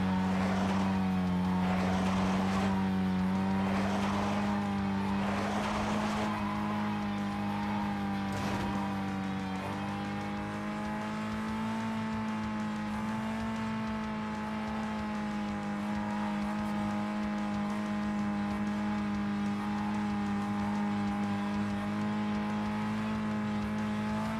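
Steady car engine drone from Need For Speed Most Wanted (2005) during a drift attempt, a sustained droning hum with a few brief scrapes early on, loud and continuous with no talking.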